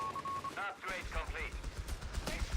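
Machine gun fire from the strategy video game Company of Heroes 3, with bursts of rapid shots crackling in the low end beneath a voice talking over the battle.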